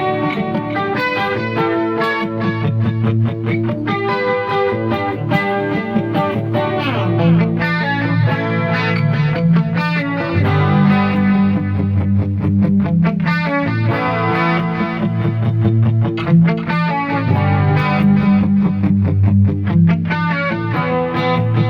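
Electric guitar played through a BOSS eBand with reverb switched on, dialed for a rock tone: loud, continuous distorted riffing with sustained chords and quick picked runs throughout, no talking.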